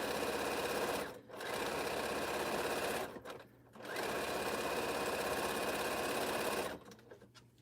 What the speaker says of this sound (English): Just sewing some scraps I got on the board.